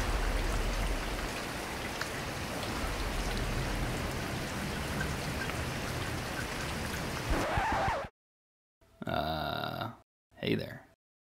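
Simulated rain pours steadily over a desert ecosystem for about eight seconds, a dense hiss of drops, then cuts off abruptly and is followed by two short bursts of a voice.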